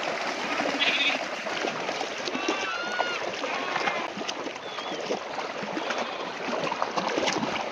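A flock of sheep bleats repeatedly while crossing a river, over the steady rush of river water, with shouts and calls from people nearby.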